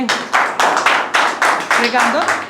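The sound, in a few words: clapping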